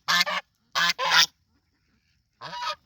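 Geese honk loudly and close by in short nasal bursts: a quick pair, then another pair after a pause, then one more longer honk after a gap of silence.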